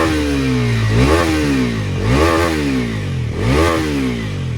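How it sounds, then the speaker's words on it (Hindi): A brand-new Bajaj Pulsar NS400 motorcycle, with a large engine, revs hard three times in a steady rhythm, each rise and drop loud and close over a rumbling idle. "अब इसके बाद आपको NS 400 की आवाज़ सुनाते हैं"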